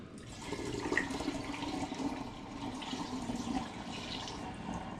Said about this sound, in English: dip it in and pour through the filter.